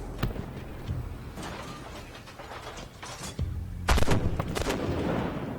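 Tank cannons fire in the Armored Warfare video game, several sharp, loud reports spread across the clip over rumbling engine and mechanical clatter, with two close heavy blasts near the end.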